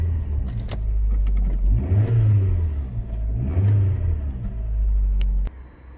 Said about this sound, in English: The car starts and runs very smoothly.